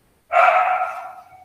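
A single drawn-out dog bark, loud and fairly close, rings out and trails off over about a second against an otherwise quiet room.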